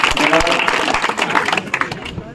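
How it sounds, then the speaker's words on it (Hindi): Crowd applause for a BJP party leader at a village campaign rally in Barwala, Haryana, loud dense clapping with a voice talking over it near the mic. "जोरदार तालियां भेजा अपने नेता"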